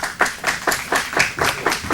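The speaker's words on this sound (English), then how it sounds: "Give them a big hand." A few people clapping for a charter school group at a televised event, a sparse, rhythmic series of about eight distinct claps at an even pace, near and moderately loud.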